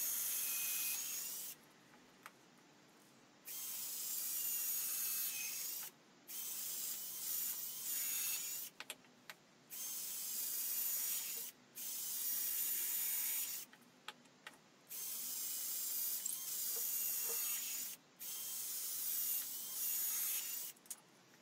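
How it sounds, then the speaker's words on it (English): Repeated bursts of high, hissing drill noise as pilot holes are drilled into a wooden step stool frame, about six runs of a couple of seconds each, separated by brief pauses. "I'm drilling another 4 pilot holes on the frame"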